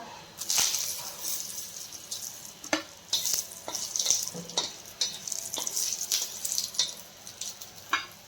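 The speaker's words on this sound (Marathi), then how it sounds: "दगडी फूल जे आहे ते टाकून भाजून घ्यायचं पटकन भाजतं हे" Whole spices such as stone flower and bay leaf dry-roast in a pan, heard as intermittent scraping stirs and light crackling bursts at close range with no speech.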